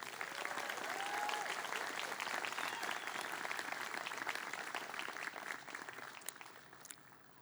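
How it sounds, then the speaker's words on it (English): Ceremony audience at a graduation applauds the graduating class, a steady wash of many hands clapping at moderate distance for several seconds before tapering off near the end. "let's give the first round of applause of many today to the class of"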